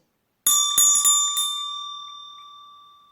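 A small bell is struck four times in quick, uneven succession during a calm hypnosis session, then its bright metallic ring decays slowly into silence.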